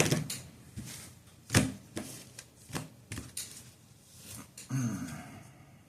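Tarot cards being shuffled by hand in several quick riffling bursts with soft taps in between, close and fairly quiet, with no talking.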